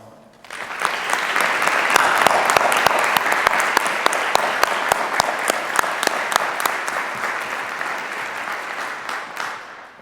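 At a 2021 education school commencement ceremony, a large audience applauds award recipients: dense clapping swells quickly, holds strong for several seconds, then gradually thins and fades toward the end.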